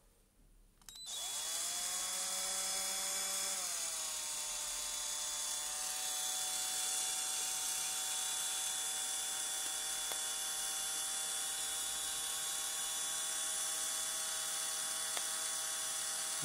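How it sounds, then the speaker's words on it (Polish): An electric drill starts up and runs steadily at a high, even whine for the whole stretch, close but fairly quiet, with no voices. "A na przykład taka wiertarka."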